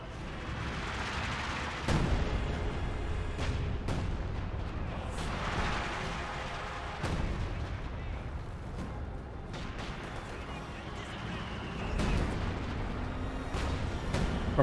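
A Company of Heroes 2 artillery barrage, with repeated heavy shell impacts and booms at irregular intervals over a continuous battlefield rumble, some blasts nearer and louder than others.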